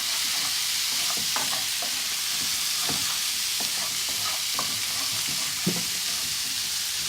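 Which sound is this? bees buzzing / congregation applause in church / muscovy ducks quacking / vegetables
vegetables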